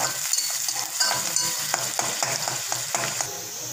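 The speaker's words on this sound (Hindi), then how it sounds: "देखो तेल गरम हुआ है, उसमें प्याज डालती हूँ।" Onions fry in hot oil with a steady close sizzle, punctuated by a quick series of spatula taps and scrapes against the pan.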